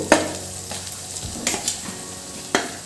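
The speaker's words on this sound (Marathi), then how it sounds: "रवा हा छान मस्त कमी गॅसवरच भाजायचा" Ragi rava is stirred and roasted in hot oil with peas, carrots and chillies over a low flame, with a soft sizzle under a few sharp scraping knocks of a spoon against the pan.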